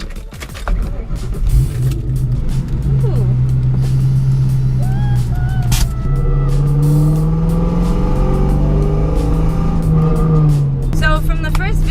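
A 1999-2004 Ford Mustang GT V8 cranking to life and settling into a deep rumble, with rising and falling revs in the latter half, close and loud, a voice briefly audible near the end.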